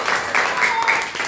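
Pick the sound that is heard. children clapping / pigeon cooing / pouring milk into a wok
children clapping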